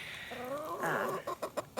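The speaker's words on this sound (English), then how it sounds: "This is our sick chicken." A sick backyard chicken clucks up close, starting with a drawn-out low call and ending in a few short, quick clucks.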